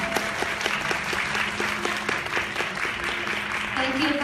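A crowd at a Hong Kong press launch for a Korean drama applauds the five guests on stage, with steady, sustained clapping throughout and a presenter's voice faintly over it.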